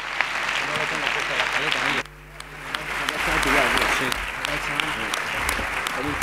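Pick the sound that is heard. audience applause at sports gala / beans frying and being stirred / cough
audience applause at sports gala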